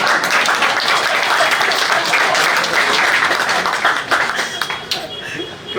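Audience applause at a school retirement send-off for Hindi lecturers and teachers, broad steady clapping filling the whole stretch at close range, with some laughter and chatter mixed in.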